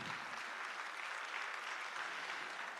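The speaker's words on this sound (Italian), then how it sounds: "Un applauso per la Presidente Caterina Carboni." An audience at a folk music festival in Tonara applauds the association president with steady, even clapping from a sizeable crowd, filling the hall without a break.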